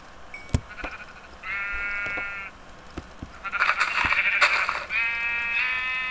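Sheep bleat repeatedly in a video game, long wavering calls in two clear bursts with brief clicks and taps between them, loud and close with no talk over them.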